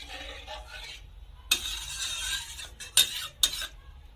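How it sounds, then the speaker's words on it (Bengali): Spice paste loosened with water in a pan for a fish curry, stirred with a utensil in a few sharp scraping, clinking strokes over a quiet background, no talking. "জল দিয়ে এখন মশলা এভাবে একটু নেড়ে নেব।"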